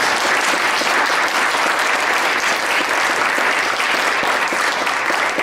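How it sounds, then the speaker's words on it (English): Audience applause for school board candidates at a meet-the-candidates evening, a loud, sustained wash of many hands clapping at an even level throughout, with no talking over it. "I think we should give all of our candidates a round of applause"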